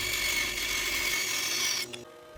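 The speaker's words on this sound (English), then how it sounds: "And then I'll make those cuts on the bandsaw." A bandsaw cuts through a wooden vase blank, giving a steady, fairly loud rasping whine for about two seconds before the cut ends and the sound drops to a quieter hum.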